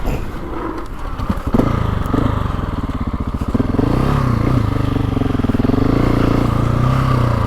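A GasGas ES 700 motorcycle being run in, its engine rumbling close and loud, rising in revs with clattering and scraping early on, then settling into a steady, throbbing drone.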